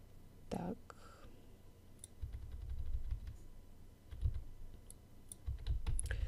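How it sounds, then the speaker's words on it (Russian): Computer keyboard keys pressed a few at a time to nudge a point in Adobe Illustrator: sparse, light clicks against a low background rumble, with a soft breath early on. "начинаю ее кнопочками на клавиатуре смещать в ту сторону"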